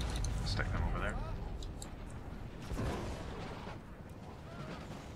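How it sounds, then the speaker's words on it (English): Phosphorus cannons firing in a war strategy video game, heard as loud booming blasts with a rumbling low-end wash, a couple of sharper reports standing out from continuous battle noise. "They got like phosphorus cannons."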